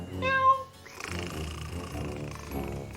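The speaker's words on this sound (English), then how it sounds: "there was an old cat." An old cat gives one short meow in a children's TV show, followed by busy music and background sound.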